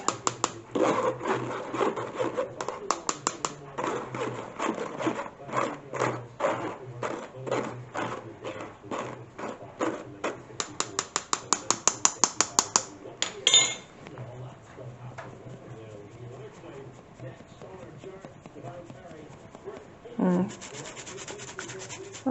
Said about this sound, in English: And I'm going to sieve it all down. And just help it through.